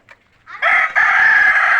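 A rooster crows loudly and close by, a long sustained call, with a few soft clucks from chickens just before it.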